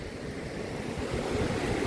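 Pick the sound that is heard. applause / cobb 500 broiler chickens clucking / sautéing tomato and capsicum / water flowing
water flowing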